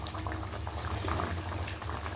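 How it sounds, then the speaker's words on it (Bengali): Pomfret fish curry with green chillies and mustard oil bubbling in a pan, a dense continuous simmer that stays close and fairly loud throughout. "সব কিছু দিয়ে জাস্ট 1 থেকে 2 মিনিট একটু ফুটিয়ে নেব"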